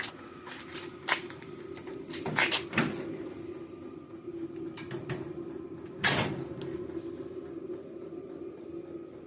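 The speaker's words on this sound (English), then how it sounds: "The gap looks good, door shut good." A 1975 VW Super Beetle door, on a car braced with jacks under its front and rear pillars, clunks as it is worked open and shut several times, ending in one solid, close slam, with faint rattles between.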